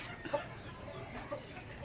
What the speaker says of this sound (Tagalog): ito yung ating mga manok.